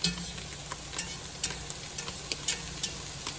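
Food frying in butter in a pan with no other liquid left, a continuous close sizzle with regular spatula scrapes and taps at a steady pace.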